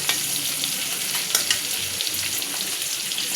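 Onion and crushed garlic fry in a pan with a steady, close, bright sizzle and a few stirring scrapes, no voices.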